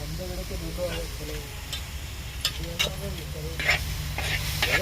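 Tomato sizzles and fries in a pan for chutney, a continuous close hiss and crackle with stirring scrapes and occasional sharp pops, with low background rumble.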